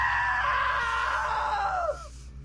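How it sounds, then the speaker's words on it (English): A long, loud, wavering human scream from a character in What Remains of Edith Finch, held for about two seconds before cutting off sharply into quiet, heard alone. "Now that was a great scream."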